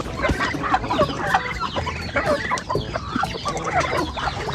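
Chickens cluck around a fishpond on a farm, a busy, close chorus of overlapping clucks and squawks that continues steadily with no talking.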